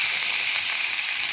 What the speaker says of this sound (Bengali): আমসত্ব আর আমসিটাকে এখানে বাজিলে তেলের মধ্যে বাজিয়ে দিন হালকা